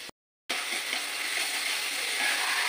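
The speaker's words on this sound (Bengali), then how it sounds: "মশলাগুলো ভালোভাবে কষিয়ে নেবো" Spices and chopped tomato frying in oil in a pan for restaurant-style chicken tikka masala, a steady close sizzle that starts abruptly after a brief silence and holds evenly throughout.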